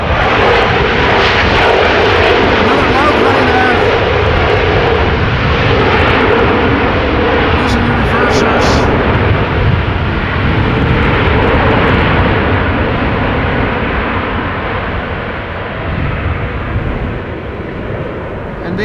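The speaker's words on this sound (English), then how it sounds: "This airplane takes off to the south." An airplane takes off at Amsterdam Schiphol Airport on a breezy day after a storm, its engine roar loud and steady throughout, fading slightly toward the end, with no voices over it.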